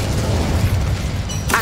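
An Incendio fire spell in the Hogwarts Legacy game bursts out as a loud, boomy whoosh with a dense low rumble, ending in a bright crackling flare.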